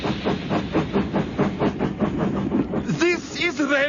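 Steam train running on rails as a radio drama effect, steady rhythmic chuffing and clickety-clack with hiss, then a sharp whistle-like squeal near the end; a voice speaks over it.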